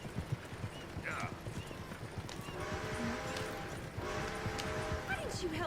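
Horse hooves clip-clop on the ground in Red Dead Redemption 2, an uneven run of close hoofbeats with a brief whinny and game ambience, with a little voice activity mixed in.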